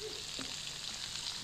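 Cucumber, carrots and other vegetables stir-fried quickly in a hot pan give a brief, continuous hiss with a light scrape partway through.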